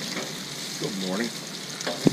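Bacon frying on a griddle gives a soft steady sizzle beneath a short stretch of talking, with a sharp clink at the end.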